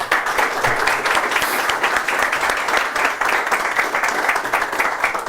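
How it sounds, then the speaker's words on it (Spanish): An audience applauds a guest being welcomed onto a stage at a talk event, steady dense clapping throughout at a fairly loud, close level, with no speech over it. "Damas y caballeros, reciban con un fuerte aplauso al señor José La Luz."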